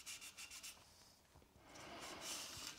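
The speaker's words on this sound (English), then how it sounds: "Bit of sanding paste, Yorkshire grit to be precise." Close, quick back-and-forth rubbing strokes of sanding wood with Yorkshire Grit sanding paste on a box with a threaded lid, a rapid rhythmic burst followed by longer, heavier continuous scraping.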